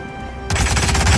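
Gunshots in the Hitman video game burst in suddenly after a low hum, a loud, rapid run of shots fired close in the dark.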